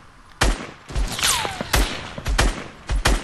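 Heavy sniper rifles and other guns fire in a Fortnite battle, about seven loud, sharp cracks at irregular intervals, some with a whistling whoosh between them.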